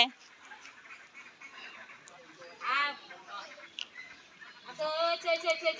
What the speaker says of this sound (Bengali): একটা হাঁসের ঝাঁক আসলো